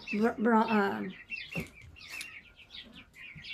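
Young roosters, including Jersey Giants, give short, strained crowing calls close by, with a brief burst of rising harmonic tones followed by softer clucks and chirps from the flock.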